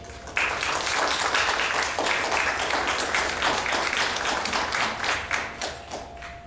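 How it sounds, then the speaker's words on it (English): An audience at a university honor society chapter meeting applauds its current officers with loose, steady clapping that lasts several seconds and fades toward the end. "Give them a big round of applause."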